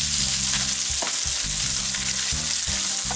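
Hot pepper sizzles in an oil-filled pan for Trinidad-style pepper shrimp, a steady, bright frying hiss with a few soft stirring knocks, close and continuous.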